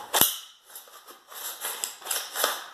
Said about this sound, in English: it's gritty, and I can feel it when I pull the handle.